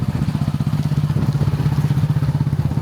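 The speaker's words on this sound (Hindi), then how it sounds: "अयोध्या पहाड़ और बाघमुंडी हम लोग बाइक से घूम रहे हैं" A hired motorcycle rides through the Ajodhya hills near Baghmundi in Purulia, its engine giving a loud, close, steady pulsing thrum with some rattling, and no voices.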